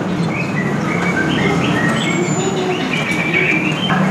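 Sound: songbirds chirping at a bird shop

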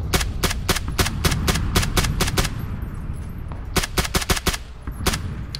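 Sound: gunshots in the video game PUBG

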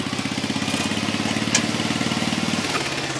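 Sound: tractor engine idling

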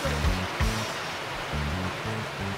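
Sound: water being poured into the pot for boiling suman

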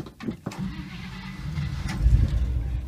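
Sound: 1955 Chevy Bel Air engine starting and stalling

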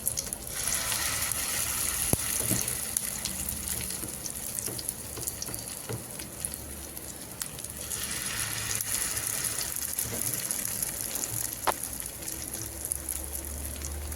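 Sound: mustard seeds, sesame and curry leaves sizzling in oil, batter added

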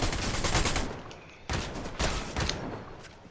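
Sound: shotgun gunfire in Fortnite video game

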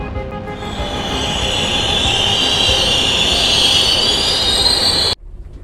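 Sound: train running on rails

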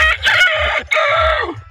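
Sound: rooster crowing

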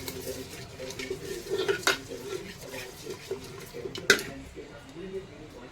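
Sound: mixing ghee and food colour into cooked rice in a pot

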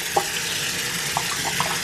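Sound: tap water running over rice for sprouting

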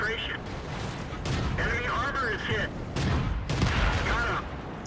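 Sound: tank gunfire in video game World of Tanks

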